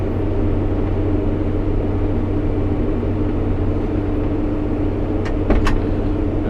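A road grader grading a dirt track on a rural property, its engine droning with a loud steady low rumble and tonal hum heard from the cab, with a couple of brief sharp clicks near the end.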